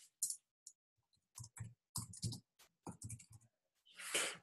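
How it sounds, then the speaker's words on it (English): An address is typed on a computer keyboard in quick, irregular bursts of close, crisp key clicks with short pauses between them, ending in a longer rattling flurry. "all you're going to do is you're going to type in Douglas Place"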